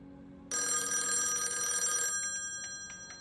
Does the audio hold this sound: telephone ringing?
yes